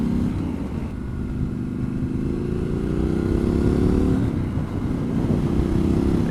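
A Triumph Scrambler 1200 XE engine drones steadily while the bike is ridden on sandy country roads, a low loud rumble with a slight rise in pitch and wind noise, no talking.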